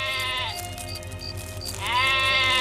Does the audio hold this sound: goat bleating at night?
yes